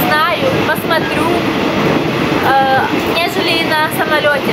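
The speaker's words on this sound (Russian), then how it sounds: "хотя это даже поездом назвать сложно, это электричка" Continuous rumble and rattle from riding an electric commuter train in Thailand, steady and close, with people talking throughout over the running noise.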